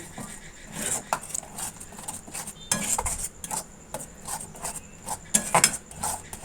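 Spices stirred and sautéed with yogurt in a pan over a low gas flame, heard as scattered metallic clinks and scrapes of a spoon against the pan at an uneven rhythm, quiet in between and without talking.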